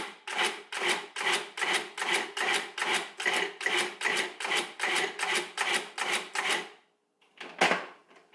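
Cuisinart 14-cup food processor pulsing onions into a fine mince, with fourteen quick, evenly spaced chopping bursts, a brief pause, then one more pulse, all loud and close.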